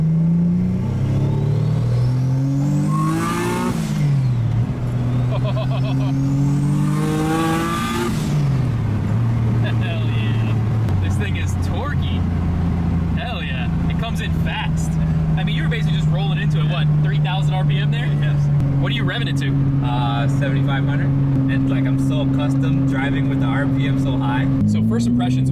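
A single-turbo VQ35HR engine swapped into a Nissan S14 240SX pulls away from a stop, rising in pitch through two strong acceleration surges before settling into a steady, loud cruising drone with a higher whine above it.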